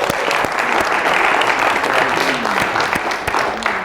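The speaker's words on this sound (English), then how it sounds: "let's give them also a round of applause." A studio audience at a late-night talk show game show, teachers against students, applauds the contestants with dense, steady clapping that stays loud and close throughout, with a few faint voices mixed in.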